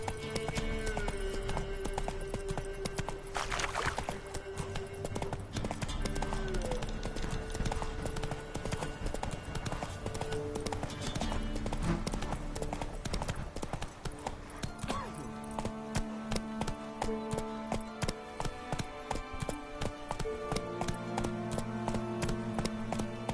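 Roach the horse gallops in a video game, steady rhythmic hoofbeats clattering throughout alongside game music, with an occasional whinny.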